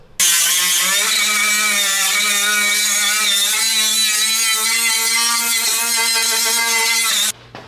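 A wire wheel spins against metal on a 1968 Datsun, stripping loose paint and rust with a loud, continuous high whine that runs steadily for about seven seconds, then cuts off abruptly.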